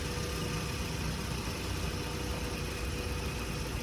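A Ford Fusion's engine idles after a jump start, giving a steady, dense rumble with no pauses and no voices.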